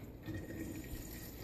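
Liquid pouring steadily into a container while mixing a Soylent meal, a continuous close gurgling fill with no pauses.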